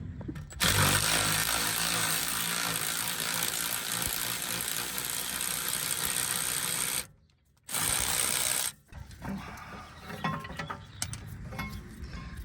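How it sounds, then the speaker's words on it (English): A handheld electric wrench on a Mercedes E350 drives out the 18mm rear brake caliper bracket bolts, giving a loud, sustained whirring buzz that cuts out briefly, bursts again, then stops, leaving quieter shop noise. "I just used the electric wrench to drive them out"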